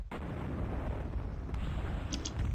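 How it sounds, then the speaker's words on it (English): In the MechWarrior 2 video game, an ammo explosion sets off a sudden booming blast followed by a sustained, rumbling roar, with a couple of faint higher pops near the end. "I got ammo explosion."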